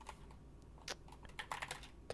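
Quiet typing on a computer keyboard, a handful of light, irregular key clicks in quick succession over a soft background hiss.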